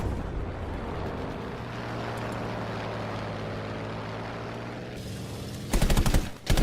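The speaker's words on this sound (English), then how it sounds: "laying off some machine gun fire, and then letting off the rockets once I find my targets" Aircraft machine guns and rockets fire in Battlefield 5, heard as a steady roar of engine and fire, then sharp bursts of shots near the end.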